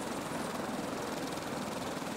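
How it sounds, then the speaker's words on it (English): A helicopter in the survival video game Stranded Deep sets down near a shoreline, giving a steady, dense rotor and engine roar that stays constant and moderately quiet throughout, with no speech. "that's the helicopter down"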